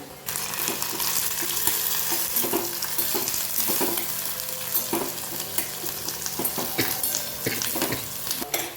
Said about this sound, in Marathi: याच्यामध्ये टाकते आहे कांदा आणि कढीपत्ता